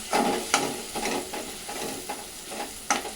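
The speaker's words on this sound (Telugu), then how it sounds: "ఒక స్పూను పసుపు వేసేసి మంచిగా గలబెట్టుకోవాలి." A spoon stirs turmeric into a curry of boiled irukaya in a pan, with steady scraping strokes about every half second over a soft sizzle, close and moderately quiet.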